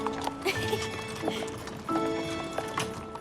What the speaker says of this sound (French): Les balades en calèche existent depuis que le parc a ouvert en 1858.